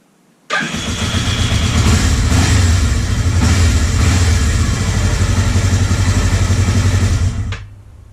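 A 1979 Kawasaki Z250 motorcycle engine fires up and runs steadily for about seven seconds, a loud, continuous close-up drone running unevenly on one cylinder before cutting off.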